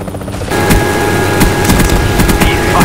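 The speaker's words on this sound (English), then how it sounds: "Friendly Hind inbound." A Hind attack helicopter in Call of Duty Black Ops flies in with a loud, continuous rotor roar, while sharp gunfire cracks punctuate a busy battle mix.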